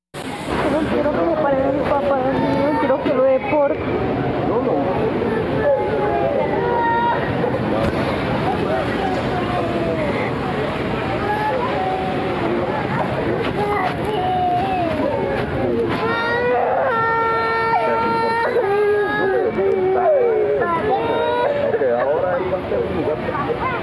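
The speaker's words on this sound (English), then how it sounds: "Those are the sounds of children crying for their parents" Recording of children crying for their parents, with sobbing and wailing young voices amid a background of voices and babble, and a voice speaking among them; sustained and fairly loud throughout.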